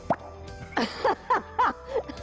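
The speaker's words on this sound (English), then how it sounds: "Pop the cork." A cork-popping sound effect for a theatre production sounds as a quick series of about six hollow pops, each short and distinct, spaced unevenly across a quiet background.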